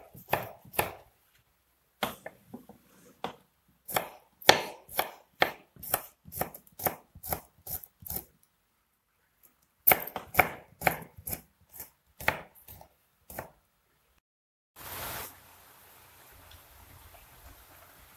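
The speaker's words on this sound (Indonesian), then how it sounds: "kita bikin bawang irisnya, bumbunya" Onions and seasoning sliced on a cutting board for spicy stir-fried wood ear mushrooms, crisp knife knocks in quick rhythmic runs with short pauses, then a brief hiss near the end.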